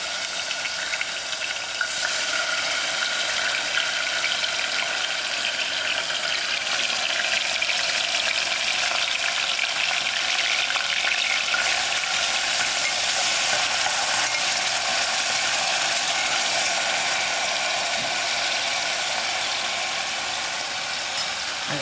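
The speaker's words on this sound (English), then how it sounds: "Okay, my oil is hot. I'm going to add in my onions." Onions go into half a cup of hot oil for bhindi in chutney and fry with a loud, steady, continuous sizzle that swells slightly after the first couple of seconds and carries on unbroken, with no one speaking.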